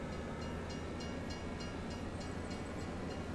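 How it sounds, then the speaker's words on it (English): A train rolling past in the Farming Simulator game on the Forest Hills map, giving a steady, loud rumble with faint periodic clacks across the whole stretch and no talk. "Before the train finished fully passing."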